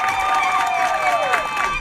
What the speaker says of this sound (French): Applaudissez pour Mamadou Mota, s'il vous plaît.